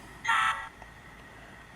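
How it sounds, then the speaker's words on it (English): Digitrax SDXH166D sound decoder playing a model locomotive horn: one short, buzzy, bright blast lasting about a quarter second, close and fairly loud, followed by quiet with a faint low thump at the end. "And there's our horn."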